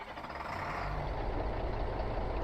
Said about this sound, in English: So I'm gonna start the engine up now.